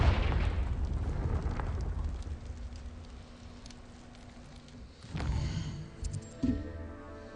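A Confringo fire spell bursts in Hogwarts Legacy with a muffled, rumbling boom over steady game ambience, followed by a sharper crackling flare of blast noise near the end.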